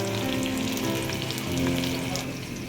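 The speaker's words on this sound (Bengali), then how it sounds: "পেঁয়াজটা আমার ভাজা ভাজা থাকুক।" Chopped onions fry in a pan for vegetable noodles, giving a continuous, fairly close crackling sizzle that holds steady throughout with no talking.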